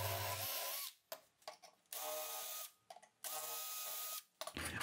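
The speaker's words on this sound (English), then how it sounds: "Next, I drilled the necessary holes." Power drill boring holes through a thin copper sheet for a guitar jack plate, whirring in several close bursts separated by short pauses, with no talking.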